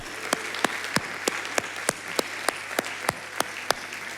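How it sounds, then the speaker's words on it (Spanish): A church congregation claps in steady unison, sharp evenly spaced claps about three per second, moderately close over a faint room background. "Un aplauso para el Señor, ¿verdad?"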